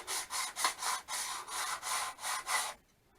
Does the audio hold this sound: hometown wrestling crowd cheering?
no